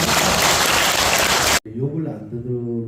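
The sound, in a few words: audience applause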